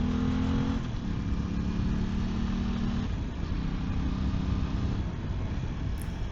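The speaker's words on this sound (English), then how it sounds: "The Aprilia may only be a 660, but don't for a moment think that it's underpowered." Aprilia 660 motorcycle accelerating on a road in northern Thailand: a steady mid-pitched engine drone under rushing wind, with the engine note shifting as the bike pulls harder.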